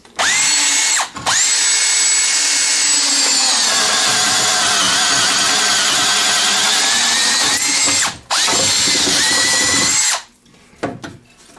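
Teccpo 12-inch cordless drill with a 4-pole brushed motor, held one-handed, boring into wood: a loud, steady high whine in long sustained runs, cut by a few brief stops and restarts, with no talking.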